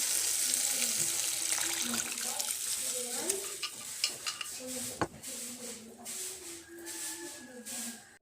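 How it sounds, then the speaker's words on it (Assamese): Dal is poured into spices fried with tomato in a pan, a watery splash and bubbling mixed with spoon scrapes, moderately quiet, with brief faint tonal sounds in the background. "মোৰ মছলাখিনি ৰেডি হৈ গ'ল আৰু ইয়াত এতিয়া মই দালিখিনি ঢালি দিম"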